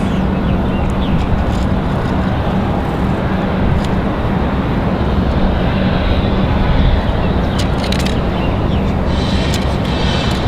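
A small flight-school airplane passing slowly at Raleigh-Durham airport, heard as a loud, steady broadband engine drone and rumble that holds for the whole stretch with little change, with faint clicks over it.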